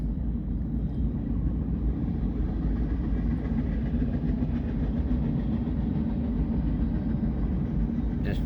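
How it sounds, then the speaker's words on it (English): A long Union Pacific manifest freight train with many empty cars rolls past at a good pace in Madera, a steady, loud low rumble of wheels and cars that continues throughout without a break. "so more than likely this is a pretty long train"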